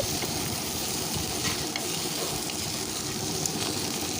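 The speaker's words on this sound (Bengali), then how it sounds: "সেটাকে আমি ভেজে নিচ্ছি" Steady sizzling of jackfruit frying in a wok, a continuous hiss with faint clinks of stirring.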